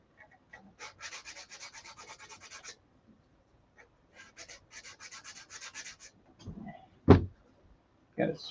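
Sandpaper scrubbing across a model car body in two runs of rapid, even back-and-forth strokes, close and fairly soft, followed by a few louder knocks and scrapes.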